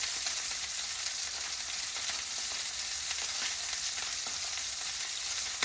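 Steaks pan frying on the stove, a loud, dense and continuous sizzle that holds steady throughout without any voices.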